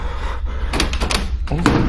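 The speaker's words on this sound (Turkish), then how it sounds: "Kapı açılmıyor lan." A stuck kitchen door being tried, with several quick knocking rattles of the handle and frame in a short burst, close and fairly loud.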